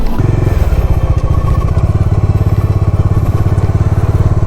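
A loaded touring motorcycle's engine thumps in a fast, even rhythm close by, loud and continuous, with a faint clatter on top and no voices.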